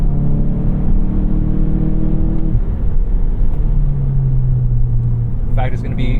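A 2018 VW Golf GTI SE with a turbocharged engine and front-wheel drive pulls with a loud, continuous engine roar from inside the car, the pitch shifting as it builds speed.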